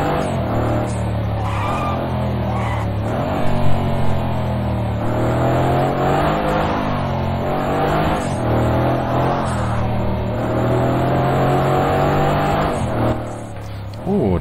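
Mercedes-Benz AMG C63 S engine at full throttle in the Project Cars 2 racing game, a loud continuous drone with shifting pitch that rises and holds throughout, with no talk over it.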